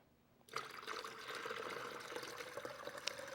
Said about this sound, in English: now I'm going to go ahead and add 4 more cups of water.